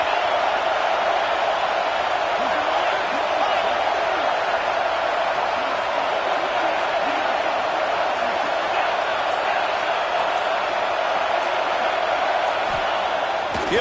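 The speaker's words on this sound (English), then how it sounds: "Fourth down, and this crowd trying to help this defense rise to the occasion." A college football stadium crowd roars steadily on a fourth-down play, a dense, unbroken wall of cheering and noise holding loud and constant throughout.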